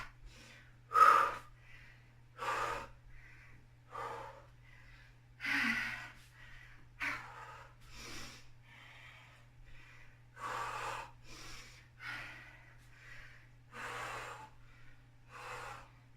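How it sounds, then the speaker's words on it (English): Heavy, rhythmic breaths during a high-intensity interval workout come in a regular series of sharp inhales and exhales, close and fairly loud over a low steady hum. "Inhale and exhale."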